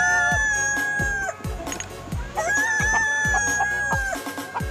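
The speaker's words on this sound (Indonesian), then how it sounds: "Bunyi ayam terkepit gigi." Chickens cluck and a rooster crows repeatedly inside the mobile game PUBG Mobile, the bird calls layered over a sustained electronic tone and sharp thumping game effects, with no talking.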